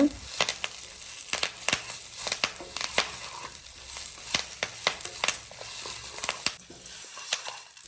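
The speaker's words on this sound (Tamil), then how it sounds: "2 கைப்பிடி அளவுக்கு கருவேப்பிலையை போட்டு நல்லா வறுத்துட்டே இருங்க" Two handfuls of curry leaves frying crisp in a pan over medium heat, a steady sizzle punctuated by frequent sharp crackles and stirring scrapes, close and fairly loud, with no talking.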